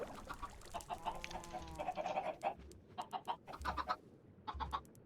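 Chickens in the Minecraft video game cluck in short, bright bursts, several hens overlapping in a steady scatter of calls with soft low thuds underneath.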